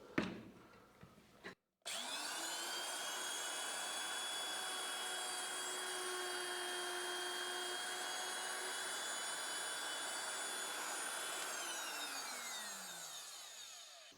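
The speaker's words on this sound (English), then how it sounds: "So it's just a case now of routering it out." A power router cuts a hinge recess into a wooden door, starting after a brief handling knock and holding a loud, steady high whine with a rushing cutting noise before spinning down near the end.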